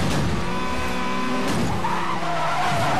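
Tires squeal and skid continuously over a roaring car engine in the video game Need for Speed Most Wanted, loud and close, with the pitch shifting as the car slides through a turn.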